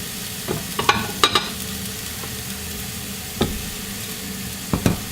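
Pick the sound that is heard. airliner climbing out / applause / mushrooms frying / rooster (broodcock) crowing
mushrooms frying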